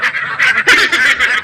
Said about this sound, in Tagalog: May tatlong bibi akong nakita.